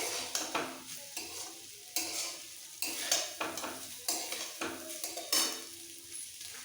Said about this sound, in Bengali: একটু ওলট পালট করে নিতে হবে মিক্স করে ফেলতে হবে